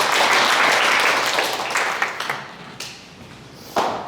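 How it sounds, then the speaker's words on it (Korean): Lecture audience applauding, loud and dense at first, then thinning into scattered claps that fade out, with a brief burst near the end. "큰 박수 부탁드립니다"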